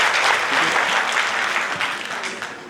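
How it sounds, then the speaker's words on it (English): An audience at a felicitation seminar for IAS and JKAS exam toppers gives a full round of applause, dense continuous clapping fading slightly toward the end. "A big round of applause again for Ikra"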